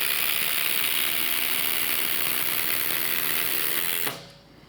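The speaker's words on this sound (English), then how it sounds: "The DeWalt is on the highest speed, and so is the Makita." DeWalt and Makita impact drivers running together at top speed, a dense close mechanical rattling whir that holds steady for about four seconds and then cuts off abruptly.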